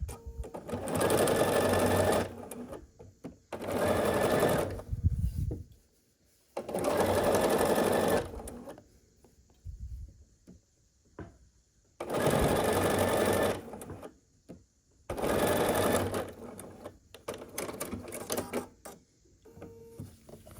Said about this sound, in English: we're going to sew this last final seam here